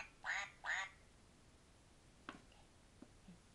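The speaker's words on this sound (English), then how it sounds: "He's a cute ducky." A duck quacks twice in quick succession, close and clear, followed by a few faint clicks and small sounds in a quiet setting.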